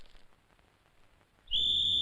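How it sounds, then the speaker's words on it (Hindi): A shrill whistle is blown in a Hindi comedy scene: one loud, sustained, piercing blast that starts abruptly after a quiet stretch and holds steadily to the end. "मेरे बाप ने सीटी बजा दी है"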